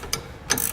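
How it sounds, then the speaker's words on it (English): A ratcheting wrench tightens a nut beside the fuel tank while Air Lift LoadLifter air helper springs are fitted to a 2016 GMC Sierra, giving two short, close ratchet bursts with a quiet gap between. "The one nut closest to our fuel tank, you'll need to use a ratcheting wrench"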